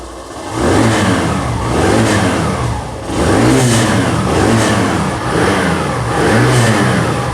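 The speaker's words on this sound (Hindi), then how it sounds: "चलिए आप थोड़ी सी देख लेते हैं कि यहाँ पर इसकी एग्जॉस्ट साउंड कैसी है" A Hero Glamour 125 motorcycle exhaust revved in repeated blips, the engine note rising and falling in about four even cycles, close and loud with a steady idle between pulls.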